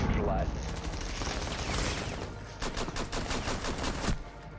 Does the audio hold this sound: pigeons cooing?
no